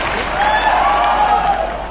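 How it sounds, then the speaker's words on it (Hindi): Dense audience applause fills a hall at a lifestyle business program in Nagpur, a steady loud wash of many hands clapping for about two seconds. "एक बार जोरदार ताली अपने लिए हो जाए।"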